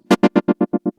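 Short bursts of pulse-wave tremolo from a Strymon Mobius on a held guitar chord: about seven sharp, separated throbs in a second with near silence between them, each burst slightly quieter than the last.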